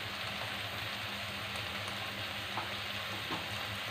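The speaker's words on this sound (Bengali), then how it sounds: "এটাকে ভালো করে কষিয়ে নেব।" Loitta dried fish fries with spices in a soft, steady sizzle, fairly faint and even, with a couple of light stirring taps and no voices.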